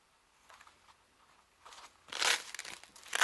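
Plastic packaging around an Omron Evolv BP7000 blood pressure monitor being unwrapped: soft crinkling that builds into louder, close crumpling and tearing bursts near the end.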